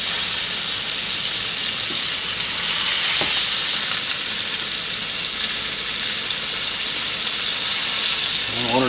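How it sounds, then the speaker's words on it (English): A rolled beef florentine roast sears in a crowded pan with a loud, continuous hiss and crackle, broken once by a sharp click. "as it starts to sear, it's gonna shrink down a little bit"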